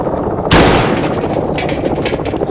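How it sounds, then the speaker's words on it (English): Loud, dense gunfire from Call of Duty Modern Warfare (2019) erupts after a brief moment and keeps rattling as continuous overlapping bursts through to the end. "Watch the fire! Watch the fire!"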